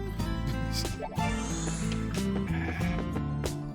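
Goats bleating in the retro action RPG Ys II, repeated nasal bleats over continuous looping village music, with a person talking occasionally.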